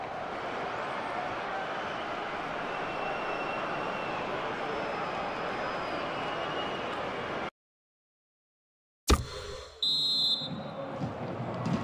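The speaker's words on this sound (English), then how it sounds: "The half-time whistle goes in this international friendly fixture." Referee's half-time whistle in the FIFA 16 Mobile football game, an international friendly between Belgium and Brazil at Old Trafford. A steady stadium crowd roar cuts to silence, then a short, shrill whistle blast sounds amid renewed game noise.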